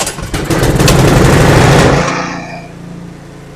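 A Cub Cadet snow blower engine with a previously dirty carburetor fires up loud and fast, chattering at full throttle with choke, then settles after about two seconds into a quieter, steady idle putter.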